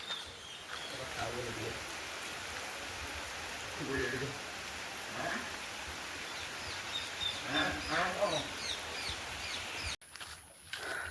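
Heavy rain falls on a village in a continuous close hiss and patter, with occasional voices and bird or fowl calls rising above it and a sudden cut near the end.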